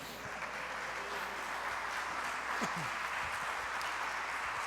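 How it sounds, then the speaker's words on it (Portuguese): Faint, steady applause from a church congregation during a sermon fills the space, a distant hiss of clapping that continues evenly throughout. "Você pode dar uma salva de palmas a Jesus?"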